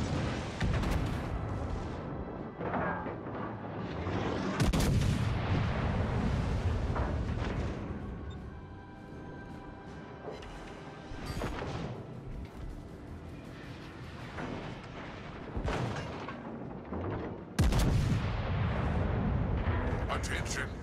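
Warship guns boom repeatedly in World of Warships: Legends, with heavy salvos and rumbling blasts at uneven intervals, loud and close, mixed with in-game voice lines and background game audio.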